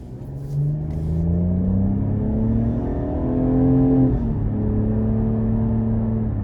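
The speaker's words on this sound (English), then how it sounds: "Here we go on our test drive of the 2020 Cadillac CT6 Premium Luxury. Gonna see what kind of power it has" A 2020 Cadillac CT6 Premium Luxury with the 3.6 AWD engine accelerates hard from a start, its engine note rising steadily in pitch through a gear change before settling into a strong, even drone.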